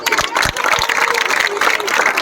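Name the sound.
applause for village girl's gold medal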